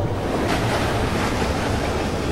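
Rushing water floods in as a continuous broadband wash, like surf and wind, in the side-scrolling puzzle game Limbo, steady and loud throughout.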